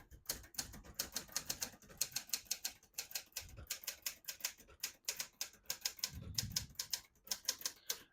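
Crisp, rapid keystrokes clatter from a vintage Hermes 3000 portable typewriter, coming in quick bursts with short pauses and a few heavier thumps of the carriage and keys, close and with no talking.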